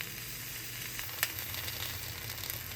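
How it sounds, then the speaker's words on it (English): Tomatillos, tomatoes and half an onion charring in a dry pan for salsa, giving a soft steady sizzle with faint crackles, quiet and close, no voices. "This will be basically a process of waiting, tossing and turning your ingredients until they have the char that you prefer."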